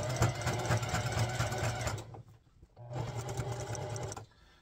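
A sewing machine zigzag-stitches a patch onto a thick Fanatics hockey jersey, running steadily and fairly loud, halting about two seconds in, then resuming for a similar burst before stopping near the end.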